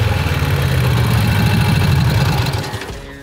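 An old Harley motorcycle engine, left sitting over 50 years, idles loud and close with a deep, lumpy exhaust note that fades near the end.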